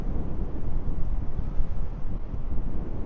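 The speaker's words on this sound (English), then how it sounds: "Oh man, that wind's really picking up." Strong wind gusts roar outdoors on a cold winter day in the East Tennessee mountains, a dense low rumbling buffet with wind noise on the microphone, steady and close.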